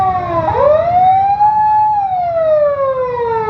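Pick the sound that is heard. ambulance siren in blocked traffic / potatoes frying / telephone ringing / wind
ambulance siren in blocked traffic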